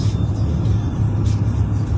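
Inside a car while driving, a constant low road rumble and engine drone fill the cabin, steady and fairly loud with no clear talking.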